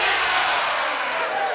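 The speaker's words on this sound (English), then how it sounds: "I love the cheering" A crowd cheering loudly and continuously, a broad wash of many voices sustained without a break, close and steady throughout.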